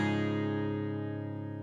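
A Merida DG-20FOLC acoustic guitar with a capo, tuned to an alternate tuning, is strummed open, giving one sustained ringing chord that slowly decays, heard alone.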